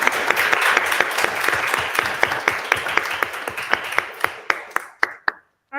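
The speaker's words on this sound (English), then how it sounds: "Another round of applause." Applause from a crowd, dense clapping that thins into a few scattered claps before fading out.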